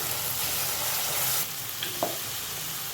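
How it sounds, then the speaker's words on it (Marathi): Onion paste fries in a pan, giving a steady, close broadband sizzle with a faint stir or clink near the end. "आताच घालून घेते कांद्याची पेस्ट. त्याला थोडंसं फ्राय करून घेते, कांदा शिजून घेते"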